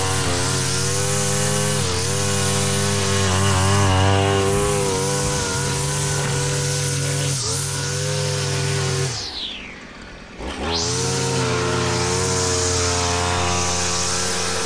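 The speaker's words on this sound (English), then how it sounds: "On all the concrete borders, we bevel the string trimmer to clean up the lines" A string trimmer bevel-edges grass along concrete borders, its small engine whining steadily and close, with brief dips in pitch and a short drop in loudness near the end before it returns to full speed.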